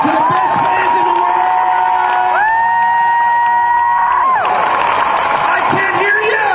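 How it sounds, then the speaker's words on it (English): Fans at a Comic-Con panel cheer and scream loudly in a big hall, a dense continuous roar with high whoops and shouts, though distinct clapping is hard to pick out. "Give yourselves a big round of applause."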